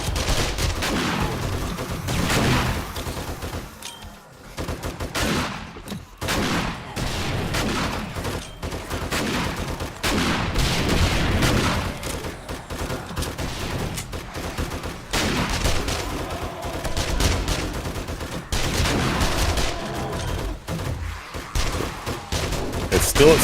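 Guns fire continuously in the zombie survival game 7 Days to Die, a dense, loud barrage of overlapping shots and bursts that barely lets up for over twenty seconds.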